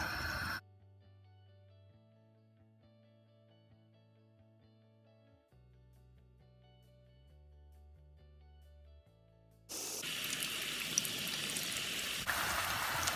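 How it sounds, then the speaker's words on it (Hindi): Chicken pieces fry in hot oil for a fried chicken biryani. Soft background music plays first, then a loud, dense sizzling crackle bursts in near the end and continues steadily. "एक तरफ मैं चिकन फ्राई कर रही हूँ"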